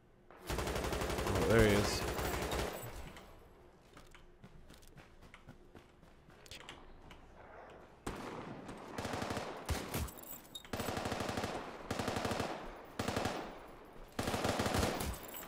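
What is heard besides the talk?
shotgun fire in a first-person shooter video game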